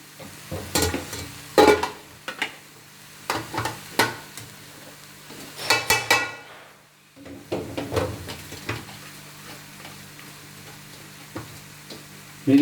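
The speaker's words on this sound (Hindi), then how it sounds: "इन चावलों को उन चावलों के साथ मिक्स करके दोनों चावलों का उलट देंगे बड़े बर्तन में जिसमें हमने दम देना है।" A spoon scrapes and stirs rice in a large pot for biryani, making a series of uneven clanks, scrapes and soft rustles, with a short pause midway, close and fairly loud.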